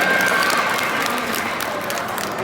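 An audience applauds a sea lion's performance at a show inside West Edmonton Mall, with steady, dense clapping from a crowd that holds at a constant level for the whole stretch.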